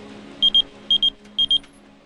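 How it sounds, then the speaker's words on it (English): An electronic pager beeper goes off, sending three pairs of short, shrill, even-pitched beeps in a steady rhythm, loud and close over a low background hum. "Luckily, the beeper worked."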